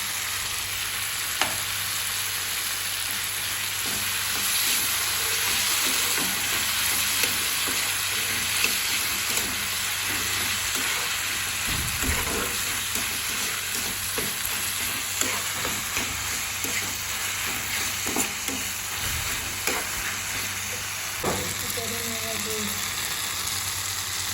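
Raisins fry and get stirred in a pan: a constant, fairly loud sizzle runs throughout, broken by scattered scrapes and clicks of the spoon against the metal, with no one speaking.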